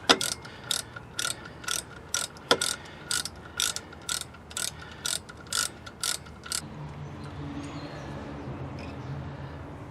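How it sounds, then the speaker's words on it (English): A ratchet wrench loosens a brake caliper guide pin on a 2002 Dodge Stratus, clicking in quick, repeated bursts at close range. The ratcheting stops, leaving faint handling noise behind. "You will then loosen and remove the guide pin at the top and at the bottom."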